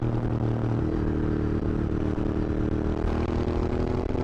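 A retro classic-style motorcycle engine runs steadily with a low, throbbing exhaust note and clattery mechanical texture, heard close and continuous with wind noise over it.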